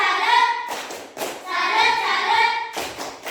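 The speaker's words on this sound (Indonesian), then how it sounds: "Tepuk tangan untuk Kenan" Schoolchildren in an Indonesian classroom give a short burst of group clapping, with a few loud, sharp claps mixed in with their chanting and voices, close and lively.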